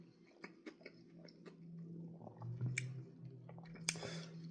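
Crunchy breaded spicy lemon pepper chicken wings being chewed close up, with soft squishy bites and a few crisp crunches in a quiet room.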